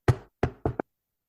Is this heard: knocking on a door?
yes